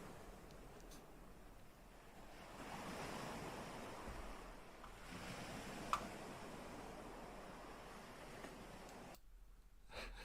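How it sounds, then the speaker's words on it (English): Sea waves wash steadily onto the shore, a broad continuous roar that swells and eases with wind noise mixed in, ending abruptly near the close. "And this is the sea."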